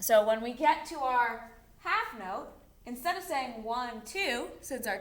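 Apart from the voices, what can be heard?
No everyday noises stand out.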